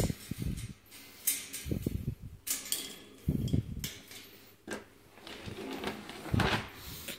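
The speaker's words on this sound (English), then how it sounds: "If I get this tray out without knocking the ladder off." A plastic tray slides out of a small animal cage for rats, ferrets, chinchillas or degus, giving faint scattered scrapes, knocks and rattles in short separate bursts.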